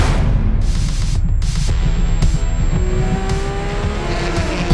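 Race cars, Porsches among them, roar off at the start of the Nürburgring 24 Hours, loud and close, with layered engine notes rising and shifting as cars accelerate past one after another, tires briefly squealing.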